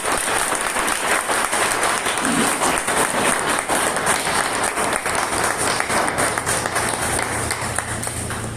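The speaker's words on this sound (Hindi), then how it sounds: "मैं चाहूंगा कि अब तक का सबसे खतरनाक तालियां बजाए" An audience at a health awareness program claps loudly and steadily for about eight seconds in dense, continuous applause, with a low hum running underneath.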